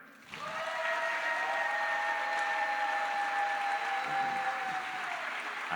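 A concert audience at a song event in Turin's Società Promotrice delle Belle Arti breaks into loud, sustained applause mixed with held cheering tones after a count of three. The noise stays full and even until it starts to fade at the end.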